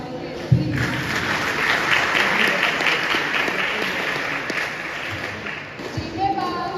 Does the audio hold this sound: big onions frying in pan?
no